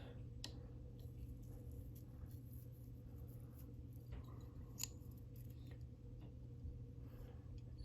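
Scissors trimming fly tying material for a Parachute Madam X fly, with a few faint, sparse snips, close by and quiet over a low steady hum.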